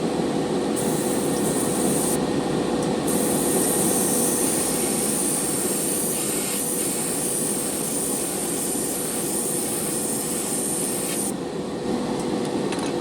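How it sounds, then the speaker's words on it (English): A Grex Genesis GSi spray gun sprays light coats of paint, a steady loud hissing rush that runs unbroken and close, with brief gaps in the high airy edge. "Rather spray it light a couple times."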